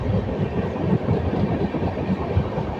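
The Visakhapatnam–Mahabubnagar Express, running with LHB coaches, rumbles along with a steady loud roar and faint rhythmic clatter, heard from inside the moving train with no voices.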